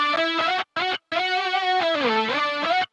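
A distorted electric guitar lead stem, chopped up and without plugins, plays a short melodic phrase, dry and upfront, with two brief gaps early on before sustained bending notes carry to the end.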